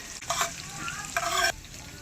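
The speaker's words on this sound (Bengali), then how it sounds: "প্রথমে দেবো ভেজে রাখা আলু" Fried potatoes tipped into a pan of crab masala with cabbage and stirred, giving two short bursts of scraping and sizzle over a low steady fry, close and moderately loud.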